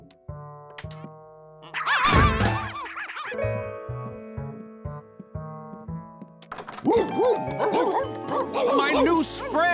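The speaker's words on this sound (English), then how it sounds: "there are like 20 dogs in here" Several cartoon dogs bark in bursts over lively music, with the barking loudest at the start and again near the end.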